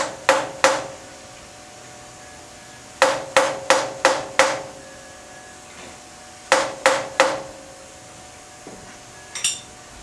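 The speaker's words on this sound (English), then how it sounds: "smack it in." A hammer smacks a part snug into a CNC vise: three sharp metallic strikes, then a quick run of five, then three more, each crisp and ringing briefly, close by with no talking.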